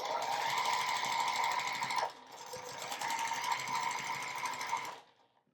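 A sewing machine stitches a quilt top for a charm pack pumpkin wall hanging, its needle chattering in a fast steady hum. A brief break comes midway before a second run, and the motor then fades out.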